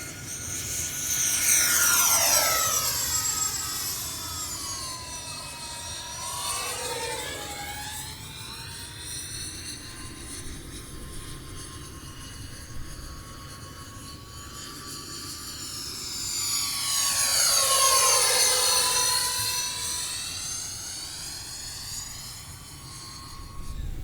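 An E-Flite F-14 Tomcat twin 40mm EDF radio-control jet streaks past in two high-pitched whining passes, its ducted fans rising loud as it nears and Doppler-sweeping down as it pulls away, with a fainter steady drone between passes.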